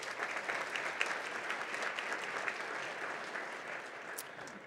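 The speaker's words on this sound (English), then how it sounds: "So one more applause for our parents." An audience at a girls and women in sports luncheon applauding the parents, a dense, even wash of many hands clapping that holds steady throughout without speech.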